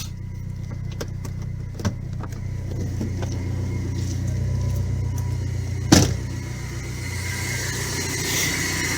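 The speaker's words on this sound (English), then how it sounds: "yeah, car starts." A Toyota Camry with a lit check-engine light from an O2 sensor fault idles steadily after starting, a low even hum with a few small clicks and one sharp thump partway through.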